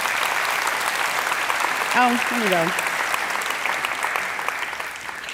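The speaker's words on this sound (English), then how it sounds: "Yeah, you can clap for that." Steady applause from an audience fills the whole clip, with a brief spoken exclamation rising over the clapping near the middle.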